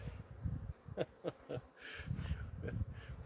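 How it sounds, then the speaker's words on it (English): Honey bees buzz faintly around a hive while beehive pallets are being consolidated outdoors. Soft, uneven droning with brief higher whines is heard, and it stays quiet throughout. "So those bees, hopefully, I'll give them a few minutes and they should be able to migrate across into that hive."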